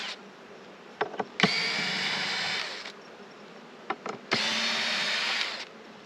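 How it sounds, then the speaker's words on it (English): Two bursts of a cordless drill backing screws out of a wooden beehive box, each buzzing for about a second and a half, preceded by small clicks, with a low hum of bees underneath throughout. "We're going to get these screws off mostly."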